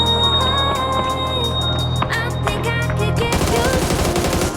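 Rapid automatic gunfire in the battle royale game PUBG, dense repeated bursts of shots layered over game music and ambience, loud and close throughout, growing busier toward the end.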